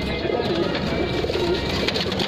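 Teddy pigeons coo in a series of low, repeated, rolling calls, close and clear over a steady background hum.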